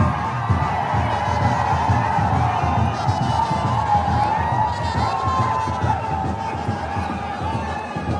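Dense crowd gathered for a palkhi procession, a steady loud murmur of many voices with scattered shouts and cheers throughout, no clear lulls.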